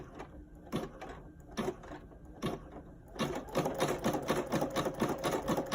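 Brother PE800 embroidery machine stitching, starting with a few separate clattering bursts and then running fast with rapid, regular mechanical ticking, close and fairly quiet.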